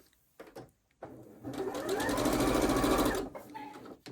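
Sewing machine stitching a quilt block: a close, rapid mechanical run of stitches for about two seconds, framed by brief handling clicks and pauses before and after.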